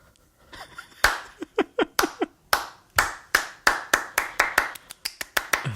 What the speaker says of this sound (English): The one person slow clap doesn't have the same effect.